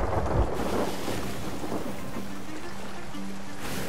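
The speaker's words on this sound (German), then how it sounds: "bevor das Gewitter hier größere Auswirkungen hat" A thunderstorm rolls over the sea in the pirate game Sea of Thieves, with a dense, steady roar of rain and wind and a low thunder rumble near the start.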